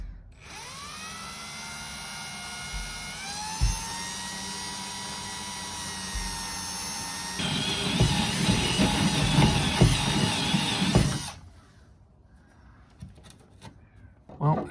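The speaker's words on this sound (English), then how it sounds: "drilling a hole into my truck" A power drill bores into the metal body of a DIY truck camper, giving a steady high whine that climbs in pitch, then grinds harder as the bit bites, stops abruptly, and is followed by quiet talk.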